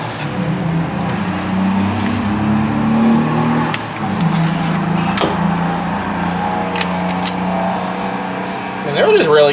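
Cars pass and rev nearby in a steady engine roar, with people talking over the traffic throughout.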